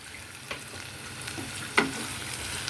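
Spices for an egg curry, including Kashmiri red chilli powder, are stirred in a pan, with a soft steady sizzle and a few scraping taps of the spoon, one sharper knock near the end.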